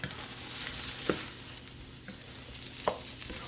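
Chicken fried rice cooking in a pan, a close, steady sizzle with scraping stirs and occasional sharp taps of the utensil against the pan.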